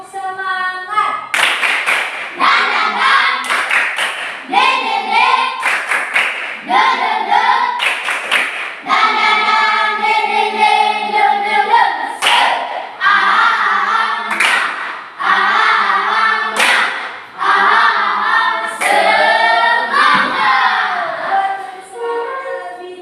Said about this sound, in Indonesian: Mari kita ice break, tepuk semangat ya.